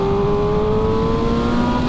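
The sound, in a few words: MV Agusta Brutale 1000 RR motorcycle engine revving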